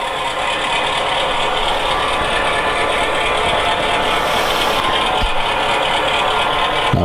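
A model railroad locomotive runs under light throttle with a steady, rattling, engine-like drone that holds at an even level throughout, and no voices are heard.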